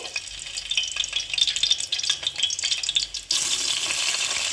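Onions dropped into hot oil for a fish curry, with a bright crackling sizzle that swells as they are stirred, then settles into a loud, steady hiss, close by.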